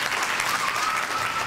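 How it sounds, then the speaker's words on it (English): Studio audience applauds a guest on a live comedy talk show, a brief dense burst of clapping from a crowd, steady and fairly close, with no voices over it. "Let's give a round of applause for our wonderful guest, Barry"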